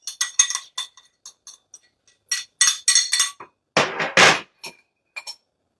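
A utensil scrapes and clinks against a bowl to get out the last bits of quinoa, making sharp, close taps and scrapes in irregular bursts with short silences between, and no talking.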